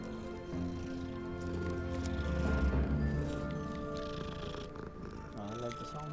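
A soft, low purring from a cat in the video game Hogwarts Legacy rumbles steadily at close range, swelling slightly in the middle, with faint tonal background sounds alongside.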